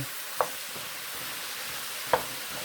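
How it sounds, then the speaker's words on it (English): Mushrooms sauté with onions and garlic in a pan for cream of mushroom soup, giving a steady, fairly quiet sizzle broken by two soft utensil scrapes, with no voices. "So there are our mushrooms. We're sauteing them"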